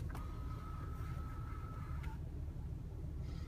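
Motorized navigation screen on an Infiniti G35 rising out of the dashboard, a steady thin whine lasting about two seconds and ending in a soft stop, heard close over a low cabin rumble.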